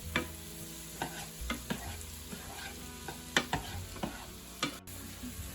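Tomatoes, seeded and drained, frying in a pan, a steady close sizzle broken by several sharp scrapes and knocks of a utensil stirring them.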